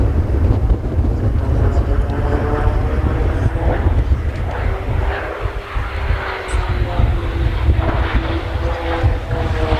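RAAF Roulettes aerobatic aircraft flying a solo spin at an air display, a continuous engine drone that rises and shifts in pitch, heard at a distance through steady wind noise.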